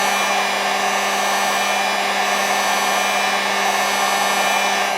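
A heat gun set on low heat blows steadily while shrinking heat-shrink tubing, a constant close whooshing airflow with a motor hum that holds unchanged throughout, no voices.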